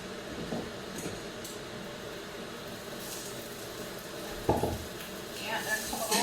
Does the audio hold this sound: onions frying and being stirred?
yes